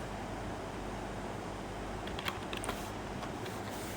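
Keystrokes tapped on a computer keyboard while entering MATLAB syntax, a few soft clicks near the end over a steady hum of background noise.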